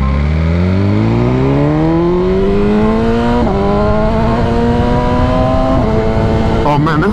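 A BMW S1000RR motorcycle accelerates hard up through the gears, its engine pitch climbing steadily with crisp shifts, loud and close, while a rider talks over it.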